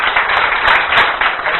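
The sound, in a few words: audience applause for Dr. Ross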